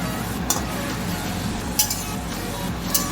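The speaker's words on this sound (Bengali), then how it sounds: "পেঁয়াজগুলো একটু ফ্রাই করে নেবো আগে।" Onions fry in a home kitchen pan for chilli chicken, a steady close sizzle broken by three sharp clinks of a utensil against the pan at roughly even intervals.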